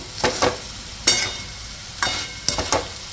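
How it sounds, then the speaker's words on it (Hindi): Coriander powder and red chili powder being stirred into potatoes frying in a pan, heard as a few separate scraping stirs with soft sizzling between them. "इन सभी को एक बार मिक्स कर देंगे आलूओं में।"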